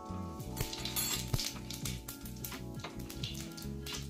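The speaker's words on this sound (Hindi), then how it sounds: "ऑयल जो अच्छे से गर्म हो चुका है, तो सबसे पहले मैं यहाँ पे डालूंगी 1/2 चम्मच जीरा पाउडर" Half a spoon of cumin powder sizzling in hot oil for a fasting-day potato dish: a moderate crackle under a low tonal hum, with a small metallic tap near the middle and no speech.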